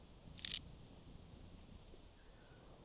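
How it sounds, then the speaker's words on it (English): A stick crunches underfoot in a hunting video game: one brief, sharp crunch near the start, then only a quiet, steady outdoor ambience. "the crunching of a stick or something is also a little jarring in a way"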